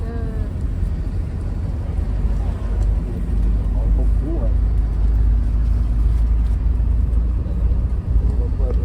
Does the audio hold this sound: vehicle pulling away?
yes